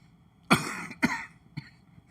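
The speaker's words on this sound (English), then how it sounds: "I always have to cough after that PSA." A person coughs three times, two sharp close coughs about half a second apart and then a smaller, softer one, with quiet pauses between.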